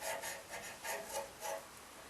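Close, soft rhythmic rubbing of 220 grit sandpaper wound onto itself, worked by hand inside a wooden pen blank on a locked lathe, about six even strokes in quick succession.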